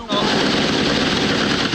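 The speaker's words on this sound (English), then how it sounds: "Suddenly, gunfire erupts." Dense, continuous crackle of rapid gunfire, loud and close, with a voice partly mixed underneath.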